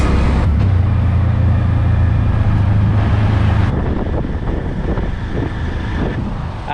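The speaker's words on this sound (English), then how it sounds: "we are in one of the world's coolest tuk-tuks" A tuk-tuk rides through Phnom Penh traffic, with a loud, continuous engine drone and rushing wind noise on the microphone, and the low rumble easing slightly partway through.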